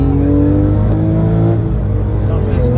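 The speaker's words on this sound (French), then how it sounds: "je laisse passer la voiture qui est derrière" Race cars run on the Bugatti circuit during a test day, with a loud, close engine note holding a steady high pitch that rises and shifts through the clip, and a voice is heard talking over it.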